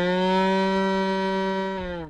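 A violin bowed to imitate a cow's moo, one sustained, rich harmonic note held for about two seconds, loud and close, with a slight bend and fade at the end.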